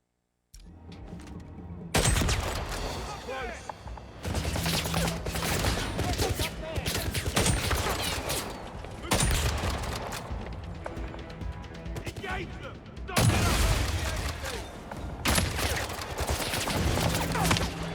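Dense bursts of game gunfire in 007 First Light, quick-draw weapon combat with rapid fusillades and shots rolling through a loud, busy battle soundtrack, with talk mixed in.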